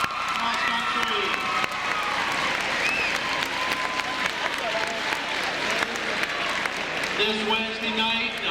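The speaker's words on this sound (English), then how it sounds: "let's have one last applause for our state championship boys cross country" A crowd at a school celebration applauds the state championship boys cross country team, continuous clapping with cheering and whoops, voices calling out over it.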